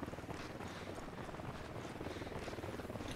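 A helicopter's rotor thumps in a fast, steady rhythm, loud and close, holding a constant drone for the whole stretch, in the video game Ghost Recon Wildlands.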